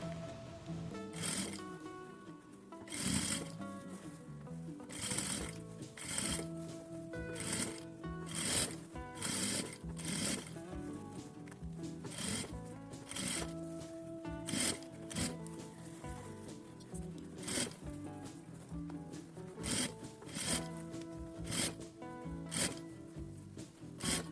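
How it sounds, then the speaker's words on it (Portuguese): A sewing machine stitches around the edge of a fabric toiletry bag in close, steady bursts of rapid mechanical chatter broken by short pauses, with no talking. "Costurei toda a volta"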